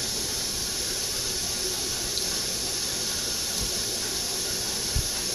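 Running water rushes steadily over an aquarium net as it is rinsed under a tap, a constant close hiss with no talking.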